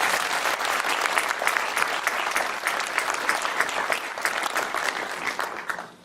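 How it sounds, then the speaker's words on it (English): A crowd at the Tustin State of the City event applauds council members in a sustained, even wash of clapping that holds steady for several seconds and fades out at the close. "Round of applause."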